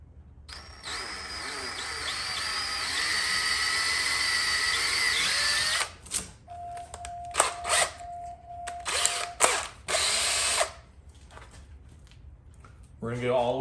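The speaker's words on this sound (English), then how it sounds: "And just go ahead and drill the pilot hole." A power drill bores a pilot hole during a wickerbill spoiler install on a Dodge Charger, a steady loud whine for about five seconds followed by several short bursts of drilling.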